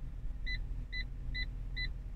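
A Fiat 500's reversing parking sensor beeps four times in a steady rhythm, a clear two-tone chirp repeating about every 0.45 seconds over a constant low engine and cabin rumble.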